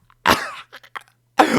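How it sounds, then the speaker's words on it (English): A harsh burst of coughing, then a few short choking coughs and throat-clearing sounds, and another loud cough at the end, close and dry. "quickly fell into a coughing fit again."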